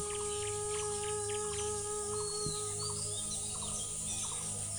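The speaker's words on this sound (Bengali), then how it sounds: "এই একটা পাখি এটাকে আব্বা বলতো ক্ষুদিরাম পাখি" Repeated short calls of a bird locally known as the khudiram bird in a Bangladeshi village, sounding in brief bursts over a steady insect drone and other rural background noise, with no voices.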